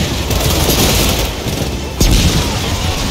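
An explosion in the shooter game Gears of War 4, loud and dense, with a sharp blast about two-thirds through over continuous rumbling gunfire and combat noise.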